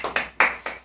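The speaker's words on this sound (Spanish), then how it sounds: "Aplauso para la Universidad Pública" Four distinct hand claps in a quick uneven rhythm, close and fairly loud, with no voices, at a talk show where the audience is cheering a public university.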